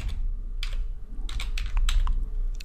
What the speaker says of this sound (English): then in parentheses you type in the word